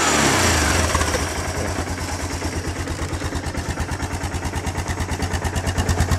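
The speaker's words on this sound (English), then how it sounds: "here's a cold start of the Kawasaki Bayou 300 two-wheel drive 1998 Kawasaki Bayou." A 1998 Kawasaki Bayou 300 two-wheel-drive ATV idles after a cold start, a loud, close, steady low thumping with a regular pulsing rhythm that settles after a brief initial surge.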